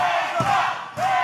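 A wrestling crowd cheering during a tag-team match: a loud, dense roar of voices that dips briefly and swells back up within a second.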